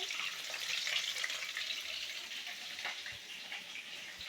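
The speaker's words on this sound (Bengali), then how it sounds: "এখানে পটল ভাজা হচ্ছে" Fish and pointed gourd fry in a pan with black cumin, giving a steady, close hiss of sizzling oil throughout, with faint stirring clinks and no talk.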